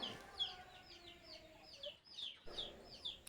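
Young chicks in a small home-raised batch cheep and cluck in quick, overlapping high peeps, fairly close and moderately loud, with a short pause before the chirping resumes.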